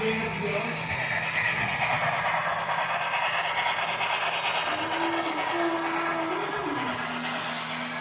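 A small model train runs steadily along its track with a continuous rolling rumble, while a voice speaks over it and a whistle-like tone sounds briefly.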